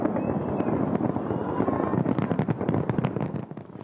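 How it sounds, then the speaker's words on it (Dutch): Fireworks over Moscow on Defender of the Fatherland Day give a dense, continuous crackle of overlapping pops and bangs, loud and steady, with wind-like rumble underneath. "Toch was er vanavond veel vuurwerk te zien in onder andere de hoofdstad Moskou."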